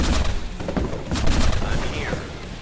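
Medium tanks firing their cannons on the move in the indie real-time strategy game BlackChain, with a rapid cluster of loud booming shots and thuds layered over battle noise.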